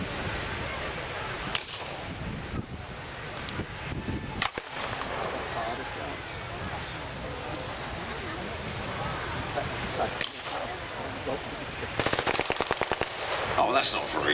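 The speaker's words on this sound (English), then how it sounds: "Firing at him while he's running away." Gunfire at an outdoor WWII battle reenactment with British paratroopers: dense crackling rifle shots and rapid machine-gun bursts pop steadily at mid distance, with a fast rattling burst near the end, under a busy crowd-like background.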